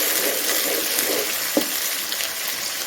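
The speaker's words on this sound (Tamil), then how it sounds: "இப்போ வெந்தயமே செவந்தோடனே கொஞ்சமாக வெங்காயம், கருவேப்பிலை, இந்த தக்காளி இதை போட்டு நல்லா 1 நிமிஷம் வதக்குங்க." Onion, curry leaves and tomato sautéing in a pan with fenugreek seeds, giving a steady broad sizzle with a single brief clatter midway, fairly close and with no talk.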